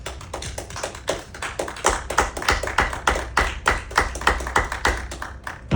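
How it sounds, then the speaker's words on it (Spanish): A church congregation claps in a steady, brisk rhythm, many hands striking together loudly and close by with no talking over it. "Le damos un aplauso al Señor, hermano."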